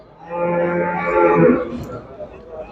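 A young, tall Holstein cow at a livestock market in Bergama gives one long, loud, close moo with clear harmonics, fading into low background noise.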